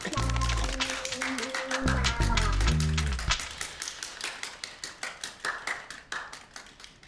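Office workers clap together in an office, starting over a bed of music and people talking, then settling into a run of steady, fairly close claps that gradually grow fainter.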